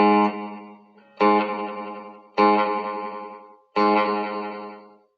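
Guitar run through a delay pedal with modulated tails: four strummed chords, each ringing out with a shimmering, wavering decay before the next, loud and close with no talking.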